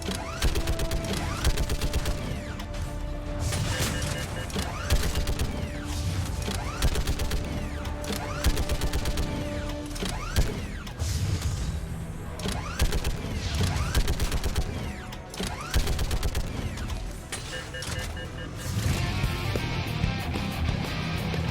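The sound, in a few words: turret gunfire in video game Mass Effect 3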